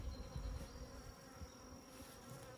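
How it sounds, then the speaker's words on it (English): Bees hum in a steady, faint buzz from a hive where brood is hatching and young bees are emerging from their cells, a continuous low drone with no voices. "All those bees coming out"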